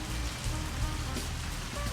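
Rain falls steadily outdoors on a training spot, a dense even hiss of drops with no voices.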